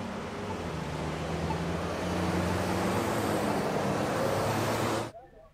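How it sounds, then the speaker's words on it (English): Steady broadband roar of passing car traffic on a street, continuous and fairly loud with low engine hum, cutting off abruptly near the end. "Like most things in life, cars make sounds."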